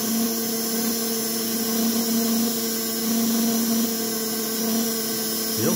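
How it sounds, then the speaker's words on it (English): A small oiled model locomotive motor with ball bearings and a bronze bushing runs with no load, giving a steady close high whine with a faint buzzing edge that holds constant throughout. "That's with no wheels, you know, 0 load. That's just the motor running."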